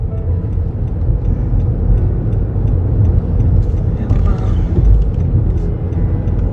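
A lorry passes close along a roadside, its heavy, steady engine rumble running loud and continuous throughout, with people talking over it.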